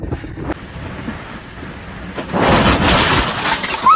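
Gusting hurricane wind in Moscow roars against the microphone, then a loud crash of shattering window glass follows, with the wind noise swelling afterward.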